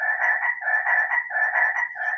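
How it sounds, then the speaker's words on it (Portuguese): Frogs croaking deep down in a well, a continuous pulsing chorus of raspy calls with a steady rhythmic throb, moderately faint and echoing, with no voices. "ele ouviu a orquestra das rãs coachando lá no fundo."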